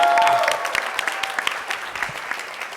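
Audience applause at a South Side pitch competition, steady dense clapping with sharp individual claps standing out, fairly close and sustained, with a voice speaking faintly over it.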